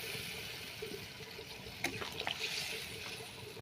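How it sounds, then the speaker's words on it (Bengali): Water is poured into a pan of spiced kohlrabi and potato for a fish curry, making a steady, rushing hiss with a few splashy bursts near the middle. "মশলাটা কষানো হয়ে গেলে এবার একটু জল দিয়ে দেবো।"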